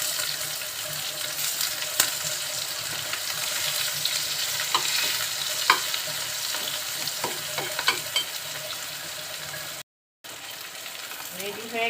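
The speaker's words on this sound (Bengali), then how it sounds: "এখন এর ভিতরে কাঁচা ঝাল আর পেঁয়াজ দিয়ে একটু ভেজে নিব।" Pieces of rohu fish fry with green chili and onion in hot oil. The sizzling is steady and close, and a spatula scrapes and stirs now and then. A brief silent gap breaks the sizzle near the end.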